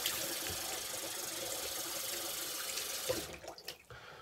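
Tap water runs steadily as a razor is rinsed between passes during a wet shave, a continuous close rush that stops abruptly near the end, leaving a few faint drips and clinks.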